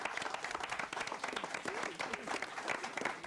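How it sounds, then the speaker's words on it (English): Sustained applause and clapping from an audience at a 2003 high school quiz bowl state final, with dense, steady claps filling the whole stretch. "Let's give them a round of applause."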